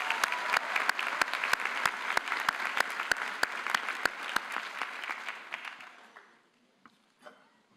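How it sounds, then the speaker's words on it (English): A graduation ceremony audience applauds steadily, with dense clapping and a few sharp individual claps standing out, then fading to quiet near the end. "Please give a special round of applause."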